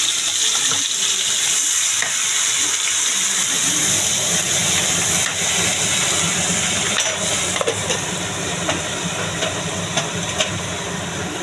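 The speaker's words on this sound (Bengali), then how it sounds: "পেস্টটা একটু ভালো করে ভাজা হবে" Spice paste frying in hot oil in a karahi for chicken, a steady broadband hiss and sizzle running throughout, loud and close, with a few faint clinks and no talking.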